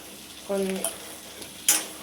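Popu tempering for leftover-rice popu annam sizzling and crackling in hot oil in a pan, a brief burst of spluttering and stirring with a tonal beep midway, close and fairly loud.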